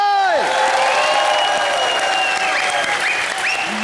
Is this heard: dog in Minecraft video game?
no